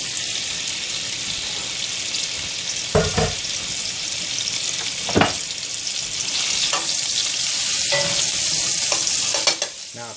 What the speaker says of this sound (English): We're going to throw our steak in there